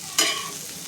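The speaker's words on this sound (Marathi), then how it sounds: "आता आपण हे सर्व एकत्र करून फ्राय करूया" A tomato mixture for tawa pizza hits a hot pan with a sharp hiss, then settles into a steady close sizzle with stirring, no voices.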